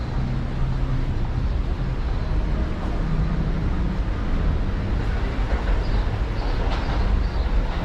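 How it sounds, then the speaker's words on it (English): A New York number 7 subway train rumbles steadily close by as it comes into the station, a low continuous roar with faint metallic squeals, no voices. "The number 7 train, which is ahead of us, is just coming into the station"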